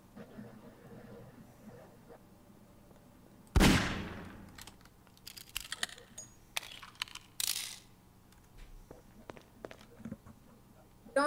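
A single sharp, loud gunshot cracks out in the Garry's Mod Murder video game, followed by scattered smaller clicks and bursts over a quiet background.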